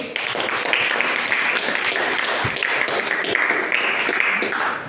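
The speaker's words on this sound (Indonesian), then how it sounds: "Berikan tepuk tangan dulu." A classroom group claps together in a brisk, even burst of applause that stays loud and steady from start to finish, with no speech over it.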